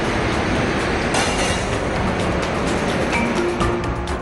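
A Shramik special passenger train in India carrying migrant workers rumbles steadily with a dense, continuous rolling roar and rattle that stays loud and even throughout.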